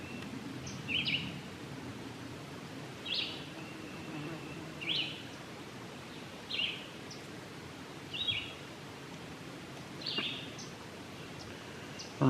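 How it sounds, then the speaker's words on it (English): Wild birds call outdoors on a sunny, breezy mountain rock outcropping during a spring turkey hunt, about six short chirping phrases repeating every two seconds at moderate distance over a steady background of wind and rustle. "Hear all the birds."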